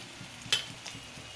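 A potato, pea and egg omelette fries in oil in a pan, giving a steady soft sizzle with one brief sharper spatter, close and alone for about a second and a half.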